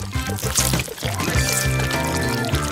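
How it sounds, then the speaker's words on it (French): Colored waffle batter poured onto a waffle iron, a thick liquid stream splattering and glugging in short bursts over background music. "Il ne me reste plus qu'à le verser sur le gaufrier en alternant les couleurs."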